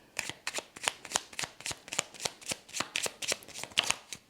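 A small deck of archangel oracle cards is shuffled by hand in quick, rhythmic riffles, about a dozen crisp papery bursts close up and fairly quiet, with no talking.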